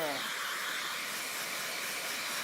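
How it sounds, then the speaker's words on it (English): Steady airy whoosh of a hair dryer blowing continuously at close range, with a low hum underneath. "Let's use the blow dryer, my friends."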